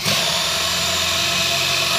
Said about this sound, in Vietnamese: chuyển qua chức năng khoan, khoan cực kỳ nhẹ luôn